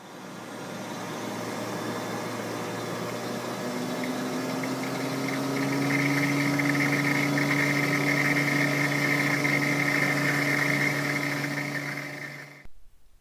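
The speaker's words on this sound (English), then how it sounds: "listen to hear the pump speed up." A pump driven through a Flux Drive adjustable speed drive hums steadily on its own, its tone climbing as the drive engages and the pump speeds up, with a continuous mechanical whine that holds at the higher pitch before stopping abruptly.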